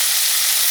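Flowers fry with potatoes in a pan, giving a brief, steady, close sizzle of hot oil with no voices.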